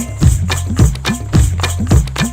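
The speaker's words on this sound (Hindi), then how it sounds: "चल मेरे घोड़े टिक टिक टिक" Clip-clop hoofbeats used as a sound effect in a children's song about a horse, a steady trotting rhythm of paired knocks set over a musical backing.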